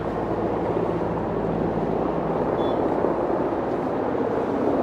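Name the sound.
helicopter flying nearby, heard but not seen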